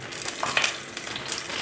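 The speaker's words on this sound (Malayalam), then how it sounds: "ചട്ടിയിലേക്ക് ഞാൻ കുറച്ച് വെളിച്ചെണ്ണ ഒഴിച്ചിട്ടെ." Coconut oil sizzles and crackles in a hot clay cooking pot, a close, steady frying hiss with brief louder pops, heard alone.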